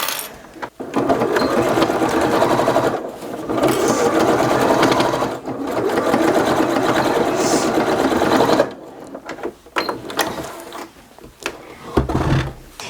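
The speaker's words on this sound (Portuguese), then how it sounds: "a gente pode virar e costurar do outro lado" Sewing machine stitching fabric for a box-style toiletry kit runs in long fast bursts, whirring steadily with short pauses between runs and a few clicks and handling knocks near the end.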